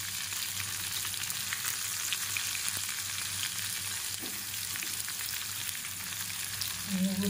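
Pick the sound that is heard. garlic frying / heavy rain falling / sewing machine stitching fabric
garlic frying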